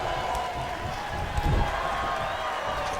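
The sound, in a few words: crowd noise in a small arena, WWE 2K19 video game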